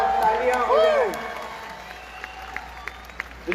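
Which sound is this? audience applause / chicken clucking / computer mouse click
audience applause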